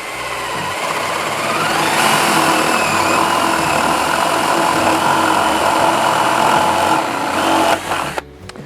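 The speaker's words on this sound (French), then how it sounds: "je vais bien sûr me mettre en position couple maximal, en vitesse 2 aussi, pour aller le plus vite possible et surtout pouvoir percer efficacement mon bois" A Ryobi R18DD3 cordless drill set to maximum torque and second speed bores into wood, giving a loud, steady high whine and grinding buzz that holds for several seconds, then winds down as the bit stops.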